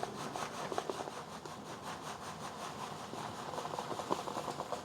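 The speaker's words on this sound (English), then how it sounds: "we're going to keep stirring" A meatball mixture with panko breadcrumbs being stirred for Chinese lion's head meatballs, giving a steady, close scraping and rubbing sound that runs quietly and continuously with no talking.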